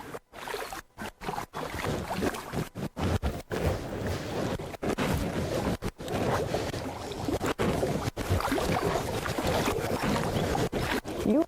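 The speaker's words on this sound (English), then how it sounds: "you can just keep paddling" Canoe paddling on open water on a guided tour, with steady splashing and rumbling water noise across the whole stretch, broken by brief gaps, and wind buffeting the microphone.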